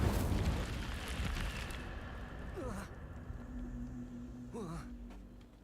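The Incendio fire spell cast in Hogwarts Legacy erupts as a loud, roaring burst of flame that fades over a couple of seconds. Softer magical chimes and swishes follow.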